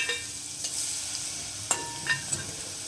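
Asafoetida and garlic chutney sizzling in hot oil, a steady close hiss broken by a few sharp clicks and spatters as the pan is stirred.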